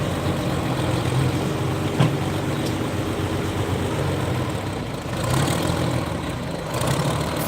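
A steady, loud pulling tractor engine rumble runs throughout a tractor pull, a heavy motor holding a constant drone with brief swells and a sharp knock near the start.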